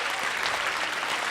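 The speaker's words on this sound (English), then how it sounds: "let's have another round of applause for our..." An audience claps in sustained, dense applause, loud and even throughout, with no voices over it.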